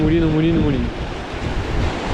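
Wind gusting across a fishing spot, a broad steady rushing roar buffeting the microphone, with a brief tonal whine fading early on and no talk.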